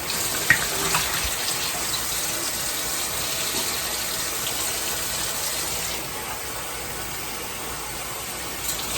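Water runs steadily as a glass bottle holding rice and soap is rinsed, likely a wine, beer or Grolsch bottle, with a constant hiss that stays at one level throughout and a slight drop near the end.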